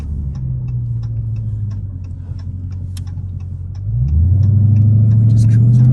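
A loud Dodge Scat Pack cruising, its engine holding a deep steady drone inside the cabin, then rising in pitch and loudness as it picks up, with a voice talking over it and faint ticking.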